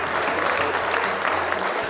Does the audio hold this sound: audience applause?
yes